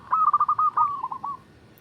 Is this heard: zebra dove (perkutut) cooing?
yes